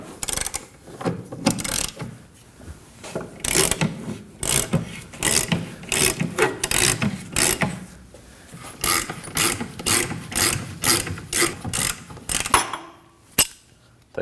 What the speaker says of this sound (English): We're gonna start by loosening this nut. Using a 21mm socket